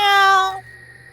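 A cartoon cat in an animated horror story gives one loud, bright, drawn-out meow lasting about half a second, then the sound cuts to quiet background hum.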